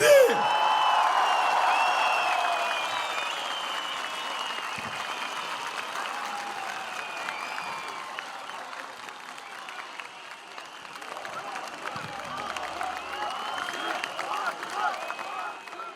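A huge graduation crowd at Akdeniz University applauds and cheers as caps are thrown after a countdown, a dense, steady roar of clapping that swells at the start and holds for the whole stretch, with scattered whoops.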